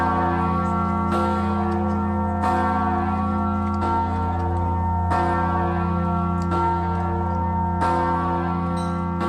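A newly cast 9,801-pound Czech church bell tolls in slow, loud, evenly spaced strikes roughly every 1.3 seconds, each blow blooming into a rich humming ring of layered overtones that sustains continuously between strikes.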